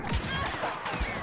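Blaster fire in the Star Wars Battlefront video game, with a short burst of several rapid, close, resonant synthetic shots that have ringing tails.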